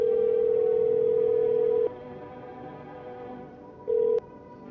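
Telephone dial tone in a horror video game, a loud steady hum lasting about two seconds, then a quieter pause, then a short second burst of the same tone.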